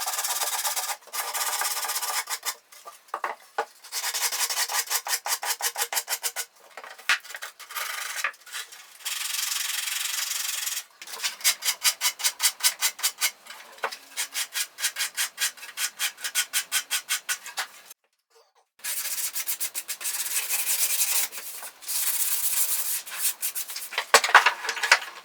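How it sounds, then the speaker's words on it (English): Rough sandpaper on a sanding block rubs along the edges and curves of a wooden ES 335-style guitar body. Quick back-and-forth strokes come in rhythmic bursts, broken by short pauses, with no speech. "going around it with some quite rough sandpaper on a block, just smoothing in all the edges and the curves to make it a nice fluid shape"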